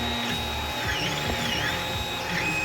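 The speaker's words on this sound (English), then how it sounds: "Here's the current adapter that we're printing out for the Ryobi battery" A 3D printer printing an adapter for an 18-volt Ryobi battery, its stepper motors whining in rising and falling sweeps over a steady mechanical hum, close and continuous.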